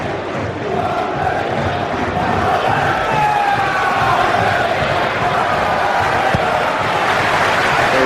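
A packed football stadium crowd roars and chants before a Portsmouth versus Reading Premier League match, a loud, steady wall of voices sustained throughout.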